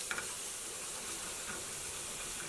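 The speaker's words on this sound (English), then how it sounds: "make sure that all the sizzling subsides" Ginger garlic paste sizzles and fries in a hot pan, a dense, steady hiss with a few small pops, close and continuous throughout.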